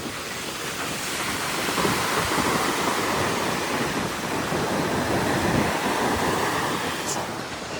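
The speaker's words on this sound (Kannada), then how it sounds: "ಒಂದು ಸೆಕೆಂಡಿಗೆ ಜಸ್ಟ್ ಅಲೆಗಳ ಸೌಂಡ್ ಕೇಳಿ." Sea waves roll onto a beach in Pondicherry, a broad close roar that swells and surges in slow waves, mixed with wind buffeting the microphone.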